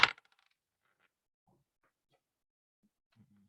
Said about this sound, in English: Some dice this time.